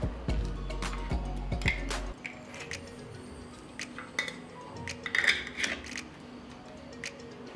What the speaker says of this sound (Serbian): I na kraju ću sve tegle zatvoriti sa čistim i novim poklopcima.